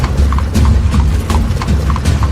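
Horse hooves clip-clop in a steady, brisk rhythm, loud and close, like a king's horse setting out on a hunt in a told story; no talking over it.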